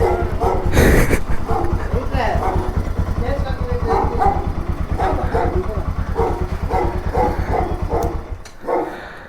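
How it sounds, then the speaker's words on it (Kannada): Dogs barking repeatedly at close range, sharp rhythmic barks mixed with yips over a running motorcycle engine, with people talking nearby. "ಎಷ್ಟು ನಾಯಿಗಳಿದಾವೆ?"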